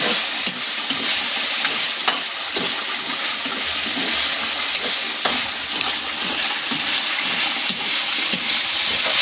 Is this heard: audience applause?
no